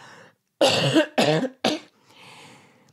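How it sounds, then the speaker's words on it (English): A man gives a few harsh coughs close to the microphone, three quick bursts in a row followed by a softer throat-clearing rumble. "I'm going to cough."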